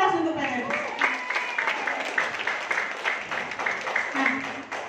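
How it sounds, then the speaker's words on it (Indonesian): Audience applause at a company marketing plan presentation, a steady patter of many hands clapping for several seconds, fairly close, with a voice over it. "Berikan aplaus untuk PTBS."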